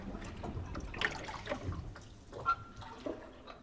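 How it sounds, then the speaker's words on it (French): Water laps and trickles softly in an underground cave river, faint irregular splashes and drips echoing in a quiet, hushed space with no talk. "On n'entend plus que le clapotis de l'eau."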